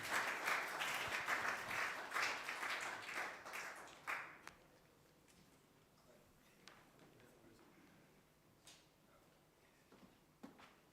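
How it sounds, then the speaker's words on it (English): An audience at a tech forum claps steadily for about four seconds, then the applause thins out to a few scattered claps and small knocks in a quiet hall. "Round of applause, please."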